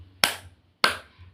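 Two sharp hand claps about half a second apart in a classroom clapping game, crisp and close, each with a short decay in a quiet room.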